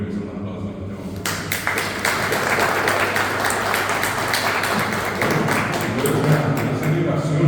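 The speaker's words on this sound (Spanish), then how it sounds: "Yo creo que el libro merece un aplauso en este momento." After a quiet second, an audience bursts into steady clapping for a newly presented poetry book, Honores – Jehechakuaa, the sound staying dense and even through the rest of the clip.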